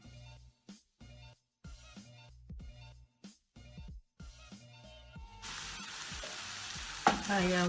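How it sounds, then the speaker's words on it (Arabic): Onion frying in a pan while preparing vegetables, a steady sizzle with intermittent stirring scrapes and clatters early, then a fuller, louder continuous hiss toward the end. "البصله حتى تشحر تاود شويه"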